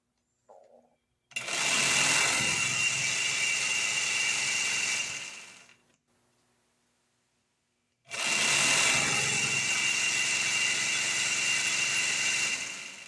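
A small engine driving a belt and clutch runs in two steady bursts of a few seconds each, loud and close, with a brief silent gap between them.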